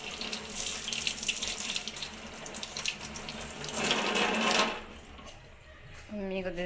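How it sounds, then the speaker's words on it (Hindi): Kitchen tap water runs steadily into a sink as potatoes are washed, a loud continuous splashing rush that swells, then cuts off near the end. "तो पहले मैं आलू धो देती हूँ"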